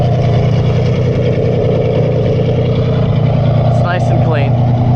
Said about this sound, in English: Quick shot of it idling.